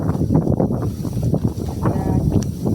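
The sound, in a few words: strong wind blowing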